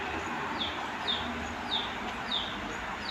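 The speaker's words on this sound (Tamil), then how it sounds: "கோழிகள் இருக்குது." Chickens clucking and calling in a noisy outdoor yard at a fun park in Theni, with repeated short high calls about every half second over steady background din.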